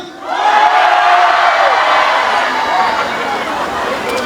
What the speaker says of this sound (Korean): 다른 지역에서 이 축제를 구경 오신 분들 함성!